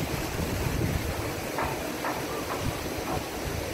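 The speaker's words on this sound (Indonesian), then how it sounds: "kita lihat airnya sangat deras" Swollen, fast river current at a fishing port, its murky black floodwater rushing in a steady broad roar with faint splashes, heard alone without talk.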